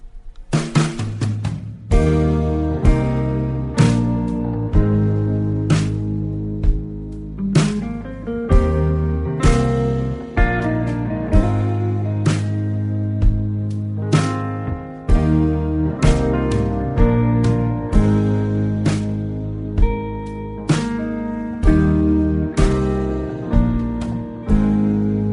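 A song plays on radio: a steady acoustic-driven tune with strummed chords and a firm rhythmic pulse, continuous music at full level with no talk over it.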